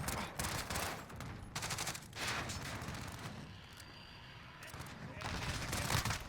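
Rapid automatic rifle fire from an M4A1 in a first-person shooter video game, loud dense bursts of shots separated by brief pauses, with a faint voice under the shooting.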